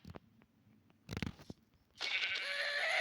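Sheep bleating in a Minecraft-style video game, a short wavering bleat rising near the end after a few clicks and brief bursts of noise, close and fairly clear with no talking.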